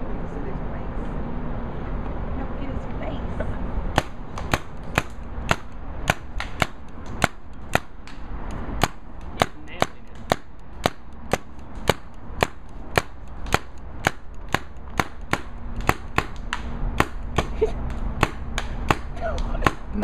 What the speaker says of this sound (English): now he's shooting paintballs